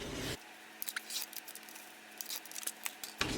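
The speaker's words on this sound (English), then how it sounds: "Okay, I'm gonna cut this right here." Scissors snipping through fabric to make a belly band for a spring sewing project, a few quiet, close crisp cuts in irregular bursts with no talking.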